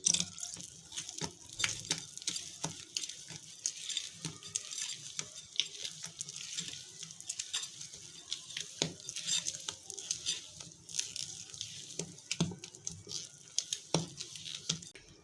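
Vanilla sponge cake batter being mixed after milk is added, a steady wet stirring with soft repeated scraping and slapping strokes in an irregular rhythm, close and moderately quiet, with no talking.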